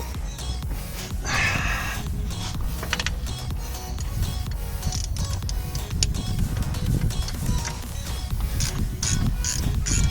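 A wrench tightens a bolt during a transfer case swap on a Jeep Grand Cherokee ZJ, with close mechanical clicking, ratcheting and metallic creaks in an irregular, continuous run without talk.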